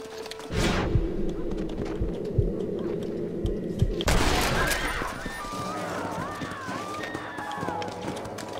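Gunshots blasting a boarded-up barn door open in the Red Dead Redemption video game: a few sharp reports, then a loud burst, followed by game ambience with horse sounds.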